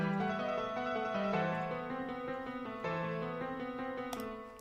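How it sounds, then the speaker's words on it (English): A short melodic passage plays in the built-in sound font of Capella notation software, with soft sampled instrument notes moving in a steady rhythm at a quiet level, no voices. "this is a sound font that is included in Capella, which sounds like this"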